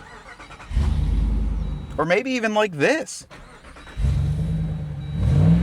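A deep V8 engine rumbles and revs, cut off briefly while a man asks a short question, then the rumbling returns close by.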